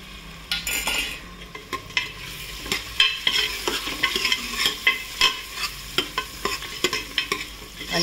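Liver pieces frying with browned onion in a pan for a village-style mutton curry, with a loud continuous sizzle and a quick run of rhythmic spoon-against-pan stirring clicks.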